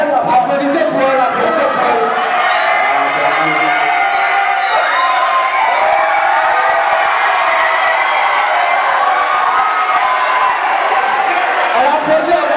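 Outdoor crowd at a film screening in Toumodi cheering, whooping and applauding in a steady, loud, dense wash, with voices mixed throughout.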